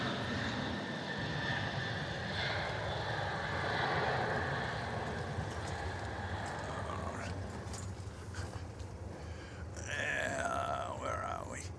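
Dash 8 turboprop engine at Melbourne Airport, a steady droning hum with a tonal whine running the whole time, moderately distant.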